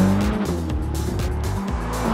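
A car engine picked up by a microphone mounted in the engine bay while driving, a loud, close, continuous rumble with wavering pitch and gear-like shifts, and no voices.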